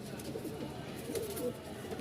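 Fancy pigeons cooing close by in a loft: low, soft, rolling coos that repeat continuously over a faint background murmur.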